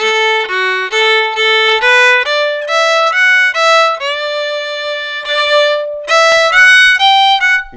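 Fiddles of a Celtic orchestra at rehearsal play a short tune with an added extra beat, a clear bowed melody stepping through sustained notes, close and steady with no talking.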